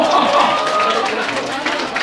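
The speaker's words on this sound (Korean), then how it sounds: "박수 주세요." Applause from a chapel audience at a Seoul foreign-language high school, a dense, steady wash of clapping filling the room for about two seconds, with voices mixed in.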